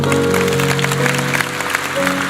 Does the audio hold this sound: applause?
yes